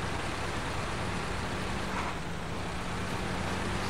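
A heavy box truck with high ground clearance ploughs through water in SnowRunner, a steady loud broadband rumble of engine and splashing that holds evenly throughout with no talking.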